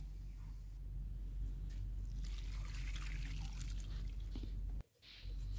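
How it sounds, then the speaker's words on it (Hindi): Water is poured onto freshly planted ginger in soil, a steady splashing trickle running for several seconds close by before it briefly stops and resumes. "लगाने के बाद आपको अच्छी तरीके से पानी दे देना है।"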